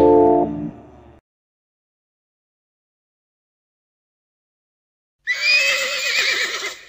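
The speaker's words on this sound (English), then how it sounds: "Take a look at me, I'm a mighty horse." A horse neighs in a children's animal nursery rhyme, a short musical tone opening the clip, then a long silence, then a loud wavering whinny close and alone.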